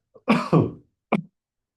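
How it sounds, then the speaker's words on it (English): Two harsh coughs in quick succession, then a short third cough after a pause, close and clear with no talking around them, during a webinar. "excuse my cough. I always seem to have a cough when I do these webinars."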